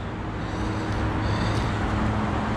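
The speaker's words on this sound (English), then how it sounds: "It's kind of loud in this spot because I'm next to a road." Road traffic passing near a South Florida fishing spot, a steady broadband roadway roar with a low engine hum, moderately loud and continuous with no talking.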